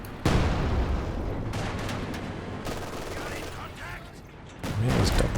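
Rapid machine-gun bursts and scattered gunfire crackle through a World War II battle in Company of Heroes 2, with dense ongoing combat noise, a heavier burst near the end, and a commentator's voice running beneath.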